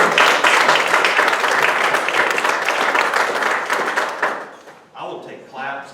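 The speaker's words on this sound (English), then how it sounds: "I will take claps all night" An audience applauds at a brand reveal event, a dense burst of clapping heard up close that fades after about four seconds, followed by a brief moment of speech.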